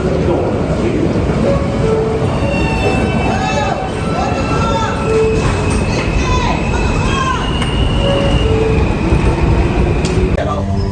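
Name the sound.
passing train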